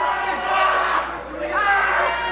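A wrestling crowd at a Fight Society intergender tag match roars and rallies, loud sustained cheering and shouts swelling twice, with an announcer's voice talking over it.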